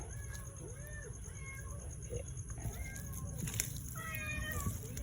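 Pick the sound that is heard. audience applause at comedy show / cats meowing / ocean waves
cats meowing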